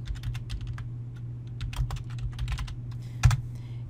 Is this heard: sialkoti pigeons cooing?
no